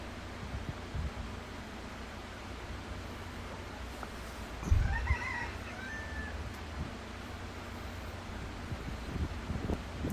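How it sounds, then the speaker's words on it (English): A rooster crows once in South Lebanon, a faint, brief call in the middle of a windy, noisy outdoor scene, with a low thump nearby and a steady rumbling background. "You ever seen a rooster crowing while there's bombs dropping in the background?"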